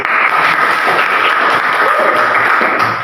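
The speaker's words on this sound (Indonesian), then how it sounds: "Oke, tepuk tangan dulu." A room full of people claps together in a dense burst of applause that lasts a few seconds.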